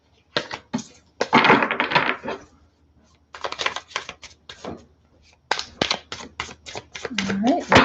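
A deck of tarot cards being shuffled by hand in a sloppy style, close rustling and riffling bursts separated by short pauses, with a voice briefly speaking near the end.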